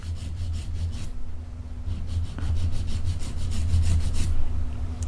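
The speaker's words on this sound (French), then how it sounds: "je vais limer comme ceci" A hand file rasps steadily along the sides of acrygel nails built on tips, a soft repeated scraping stroke close by with a low background hum and no talk.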